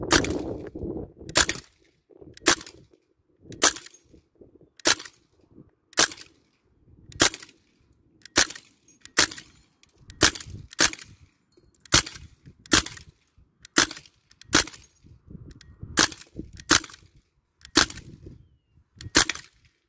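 A rapid series of sharp, snappy shots from a Crosman DPMS SBR 4.5mm air rifle firing full-auto, about twenty in close succession with short, fairly even gaps, loud and near with no voices.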